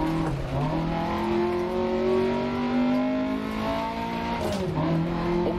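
A rally car engine in the VR racing game Dirt Rally 2.0 roars steadily, its pitch climbing and dropping through gear changes, loud and continuous with a brief tire scrub.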